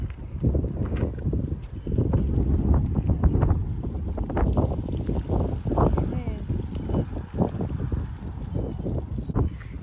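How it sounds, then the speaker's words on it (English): Strong wind buffets the microphone in heavy, uneven gusts, rumbling low and loud throughout. "It's so windy."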